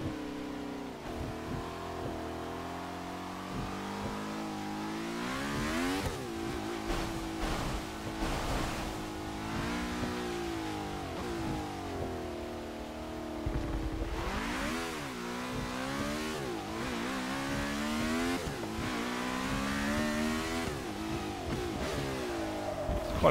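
Lotus 67 race car driven on a wet Brands Hatch circuit in the rain, its engine repeatedly revving and rising in pitch through gear changes, with spray and water noise beneath the close, sustained engine sound.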